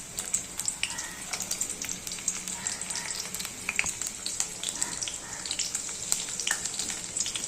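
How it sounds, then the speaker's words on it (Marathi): Garlic fries in a small amount of oil in a pan, a close, continuous crackling sizzle with frequent sharp pops and spits, and no talking. "लसूण थोडंसं तेलामध्ये फ्राय करून द्यायचं."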